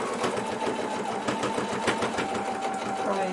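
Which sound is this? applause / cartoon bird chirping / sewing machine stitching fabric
sewing machine stitching fabric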